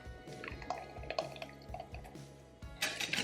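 Carrot soup pouring from a spouted vessel for weighing, heard as a quiet, uneven trickle with small drips and splashes, the flow briefly louder near the end; no one speaks.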